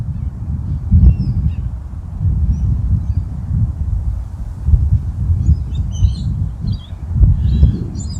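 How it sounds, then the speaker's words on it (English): By a river, low rushing wind and water noise rumbles continuously while faint bird calls, including goose-like honks, sound intermittently in the distance. "You can hear the birds, the wind, the water."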